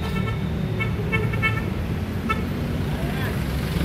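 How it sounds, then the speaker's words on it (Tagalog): Car horns toot several times amid a dense rumble of street traffic on Quezon Avenue, Quezon Boulevard, with short honks clustered in the middle and engines droning underneath. "Busina ng busina guys."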